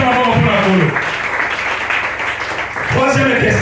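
A church congregation claps and applauds at an ordination service, a broadband patter of many hands lasting a couple of seconds between stretches of loud speech.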